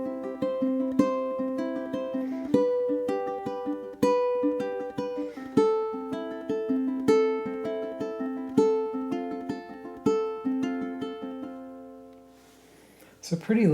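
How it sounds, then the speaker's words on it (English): Ukulele playing an 8-bar chord melody with a Travis fingerpicking pattern, steady alternating plucked notes ringing clearly and alone, fading out near the end. "I play through this 8-bar form with our Travis picking pattern, sounds like this."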